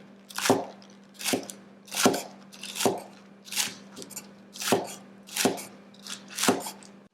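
A Kyoku knife chops green onion on a board in about nine crisp, evenly spaced strikes, close and clear with no talking.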